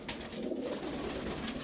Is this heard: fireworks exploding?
no